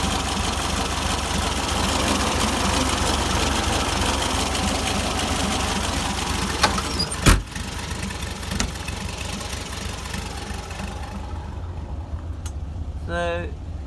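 An old air-cooled VW T2 early bay van engine idles with a steady, loud, low rumble, broken by a couple of sharp knocks. Near the end the engine fades and a voice comes in briefly.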